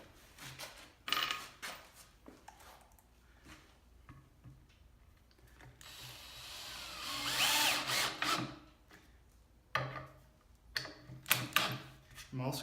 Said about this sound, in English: I use some of these 1 5/8" screws to secure it to the hinge